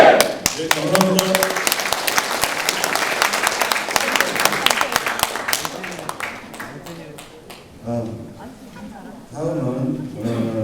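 Applause from a delegates' orientation gathering: loud, dense clapping from a group that fades after several seconds, with voices talking over it and continuing as the clapping dies away.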